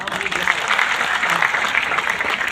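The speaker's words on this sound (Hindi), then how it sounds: "जोरदार तालियां इनके लिए" Loud, dense applause from an audience, continuous clapping filling the whole moment without a break.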